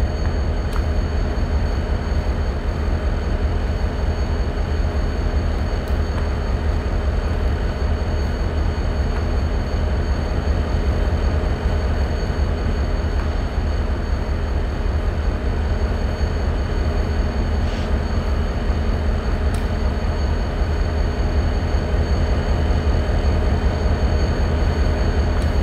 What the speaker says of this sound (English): So we are waiting for train to overtake our train.